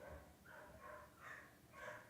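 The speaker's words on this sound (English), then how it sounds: "My apologies if you can hear the dog in the background." A dog barks faintly in the background, about four short, evenly spaced barks heard from a distance with nothing else over them.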